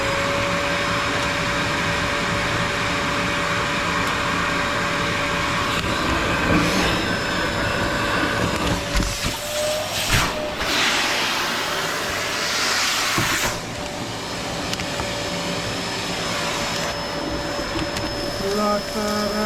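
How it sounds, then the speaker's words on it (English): Vacuum cleaner running while sweeping out a large Hunter boiler stove, a loud steady whining drone with a tonal hum, broken by scraping and sucking bursts as the nozzle works inside the stove. "It says, get the vacuum on."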